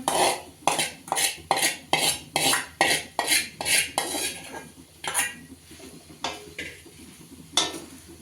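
A utensil scrapes and clanks rhythmically against a pan while okra is stirred with onion and spices, about a dozen evenly spaced strokes close up, slowing and thinning out toward the end.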